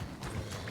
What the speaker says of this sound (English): Your horse.